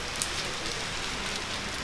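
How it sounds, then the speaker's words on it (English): Heavy rain falls outside in Catania, Sicily, a dense, steady patter on surfaces that holds at an even level throughout, close and moderately loud with no voices. "Oh, it's raining heavily today."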